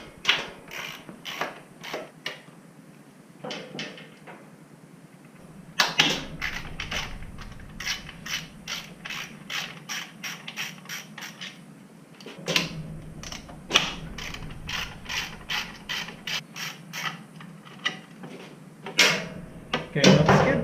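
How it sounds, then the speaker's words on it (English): Skid plate bolts being loosened from a 2017 Africa Twin motorcycle up on a lift: a quick series of ratcheting clicks and metallic taps in runs, broken by short pauses, close and clear. "We're going to start by removing the skid plate on the bottom."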